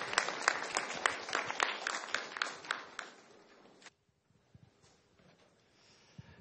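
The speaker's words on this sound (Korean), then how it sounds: "박수로 환영해 주십시오." Conference audience applause welcoming a presenter, a few dozen distinct claps in a loose rhythm for about four seconds, then a sudden stop into quiet room noise with faint stray sounds.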